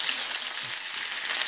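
Food frying in a pan on an electric cooker, a steady bright hiss of sizzling fat that holds evenly throughout, with no voices.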